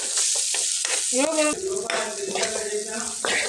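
Okra fries with masala in a pan over a low flame. A close, steady sizzle runs throughout, broken by scraping stirs and a few brief tonal squeaks.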